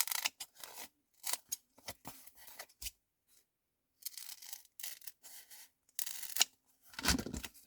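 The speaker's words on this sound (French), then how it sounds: "un petit coup de ciseau. Ça devrait se couper" Scissors snipping through paper while a Harry Potter leaflet is made, a close, fairly quiet series of crisp cutting strokes in uneven bursts separated by short silences.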